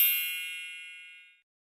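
A single bright ding rings out from a phone as a text message arrives, clear and close, then fades away into silence over about a second.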